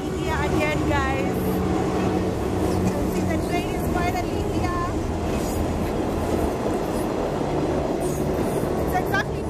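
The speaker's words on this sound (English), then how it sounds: "The train is finally here again, guys." A Dandora commuter train in Kenya pulls in, its steady rumble, wheel clatter and brief squeals running loud and continuous throughout, with voices talking over it.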